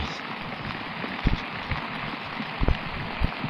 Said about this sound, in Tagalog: Wala nang tigil ang ulan mga master.